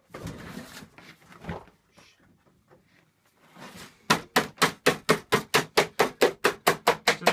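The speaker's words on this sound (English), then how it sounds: "you can just tap it in with a hammer" A hammer taps a staple into the wooden lid of a beehive nuc box, a quick run of about sixteen sharp, evenly spaced close knocks after some quiet speech and handling noise.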